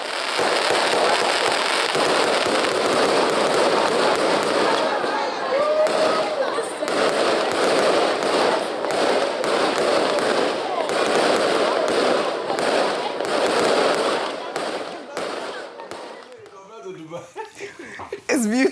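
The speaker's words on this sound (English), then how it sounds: "fireworks adorned the skyline at midnight" New Year fireworks at midnight burst in dense, crackling volleys, loud and continuous, with scattered chuckles and voices in the crowd; the barrage thins out near the end.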